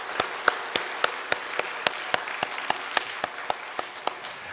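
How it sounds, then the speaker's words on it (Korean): Church congregation applauding during a thanksgiving service, heard as a steady sequence of sharp, evenly spaced claps at moderate distance, fairly faint, with no talk over them. "우리 박수 한번 보내줍시다"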